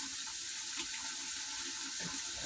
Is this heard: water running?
yes